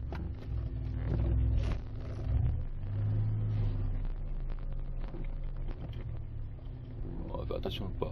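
1982 DeLorean DMC-12 driving slowly to park, a low engine rumble with brief revving swells, heard from inside under someone talking.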